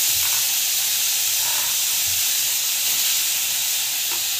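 Tomato, green chilli, carrot and onion sautéing in hot oil in a pan, giving a dense, continuous hiss and sizzle with faint stirring knocks.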